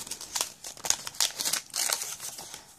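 Paper crinkling and rustling in short, close bursts as a pink greeting card is pulled out and opened from a package, with no voices.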